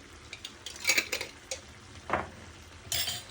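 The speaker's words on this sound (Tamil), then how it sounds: "எல்லாத்தையும் சேர்த்து நல்லா பிரட்டி விடுவோம்." A metal spoon scrapes and clinks against a pan while spiced mutton curry masala is stirred, with several sharp knocks over a soft sizzle close up and no talk.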